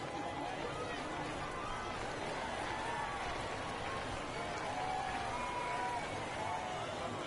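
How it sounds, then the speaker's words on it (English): Steady, distant stadium crowd murmur from the MLB 22 baseball video game fills the background, a constant low hubbub without distinct cheers. "I like the crowd."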